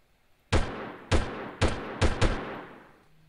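Five loud, close gunshots from a weapon in the video game Delta Force, fired in an uneven burst over about two seconds, each with a sharp crack and a brief decaying tail, with nothing else heard.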